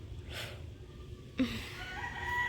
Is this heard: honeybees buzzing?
no